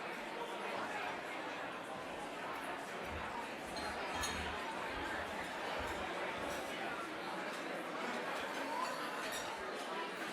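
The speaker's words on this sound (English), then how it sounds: "I'm not sure how to start off and quiet this crowd up" A crowded awards event hall fills with steady, dense audience chatter, many overlapping voices murmuring at a constant level, with occasional clinks of glasses.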